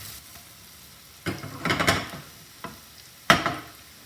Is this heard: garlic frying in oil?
yes